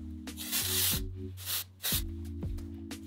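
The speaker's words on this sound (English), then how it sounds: "So I'm gonna take the spray, lift the hair, and spray as I drop it." Texture spray hisses onto hair in a few short spritzes, close and soft, each a brief airy burst with pauses between, over a faint musical background.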